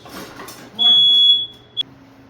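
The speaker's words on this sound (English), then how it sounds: "Every time when I cook on 450 and I open the oven, our alarm goes off." A household smoke alarm sets off after a hot oven at 450 degrees is opened, giving one piercing, steady high-pitched beep followed by a short chirp, loud and close, after some brief talk.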